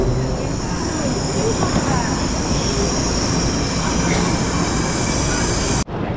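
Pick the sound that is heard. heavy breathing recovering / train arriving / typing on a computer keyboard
train arriving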